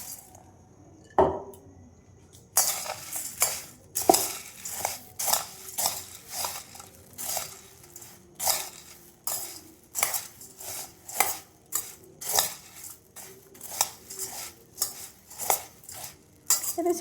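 Puffed rice (muri) is mixed with peas in a bowl, making rhythmic rustling crunches and scrapes that repeat about every second, close and clear, after one sharp knock at the start.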